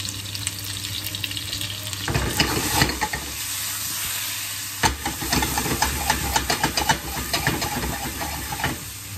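Potatoes seasoned with salt and pepper frying in a pan, a steady close sizzle with bursts of crackling and spitting spatter, heard alone without voices.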